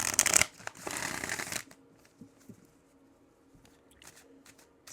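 A deck of energy cards being shuffled, a brisk riffling burst for about a second and a half up close, then only faint handling noises and quiet room sound.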